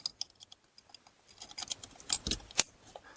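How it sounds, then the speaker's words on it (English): A plastic electrical connector on a car blower motor in a Chrysler Town and Country snaps into place with a few quiet clicks and rustles, faint and close, ending in a sharper snap. "Make sure you hear it snap in."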